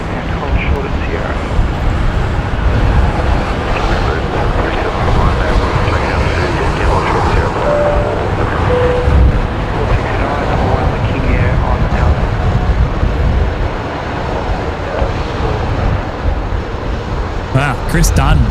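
An Airbus A330 airliner at Brisbane Airport gives off a loud, steady jet engine roar that holds for the whole stretch. People talk over it now and then.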